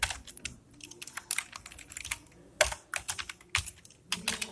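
Code is typed on a computer keyboard during a data structures lecture, with rapid, uneven bursts of close key clicks separated by short pauses, soft and alone without talk.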